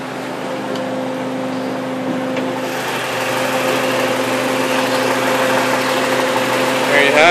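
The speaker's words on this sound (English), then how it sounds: "So, I think my exhaust has a hole or two, so it's a little loud." The turbocharged engine of a 1993 Volvo 940 Turbo runs at a steady idle with a leaky, holed exhaust, giving a loud, even drone with a constant hum that swells slightly toward the end.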